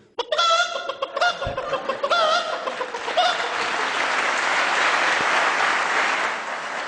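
A person imitates a hen clucking after laying an egg, with a string of sharp, rising cackles close to the listener. The cackles give way to a steady wash of clapping or crowd noise.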